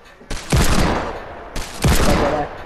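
Gunfire in the Fortnite video game rings out in two loud, close volleys of rapid shots, each a sharp crack followed by a ringing decay, with no talk.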